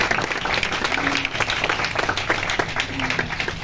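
An audience at a meet-and-greet applauds a manager, a dense, steady wash of clapping from many hands that stays even throughout, with faint voices mixed in.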